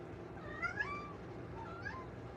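A couple of cats let out short, faint meows, one after another, over a steady low background hum with no speech.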